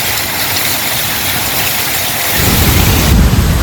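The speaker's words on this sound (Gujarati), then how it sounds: "જોવો તમે કેવો વરસાદ પડી રહ્યો છે" Heavy rain roars steadily with a rushing, windy rumble that swells louder near the end, with no voices.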